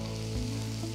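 Spice powders, including Kashmiri chilli, garam masala, fennel, turmeric and coriander, roast in hot oil in a pan with a soft, continuous close sizzle and a low hum underneath.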